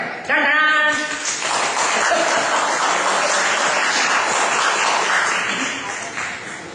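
Audience applause at a stage program held for a family celebration, a dense, steady wash of clapping that runs loud for the whole stretch, with a voice briefly heard at the start.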